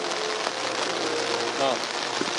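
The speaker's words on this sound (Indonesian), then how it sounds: "Prabowo Subianto memimpin langsung upacara parade senja di Akademi Militer yang diguyur hujan deras pada petang hari" Heavy rain pours steadily onto the ground during an evening parade ceremony at a military academy in Indonesia, a dense, unbroken hiss that fills the whole clip, with faint voices underneath.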